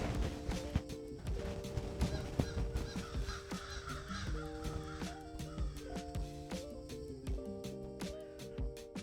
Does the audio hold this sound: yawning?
no